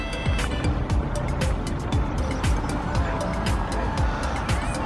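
Cars drive along a city road beside Glasgow Green, a close, continuous stream of engines and tire noise with several vehicles rushing past in quick succession, and a voice faintly under the traffic.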